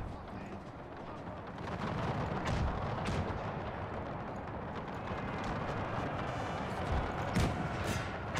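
Cannon and musket volleys boom from a Napoleonic battle in Napoleon: Total War with the Era Mod, a dense continuous rumble of artillery fire with scattered sharper reports, moderately loud and distant, layered over constant battlefield noise.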